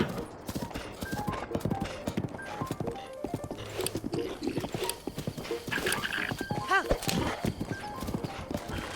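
Horse hooves clip-clopping in a rapid, steady rhythm in The Legend of Zelda: Breath of the Wild, with a brief whinny near the end, all under ongoing conversational talk.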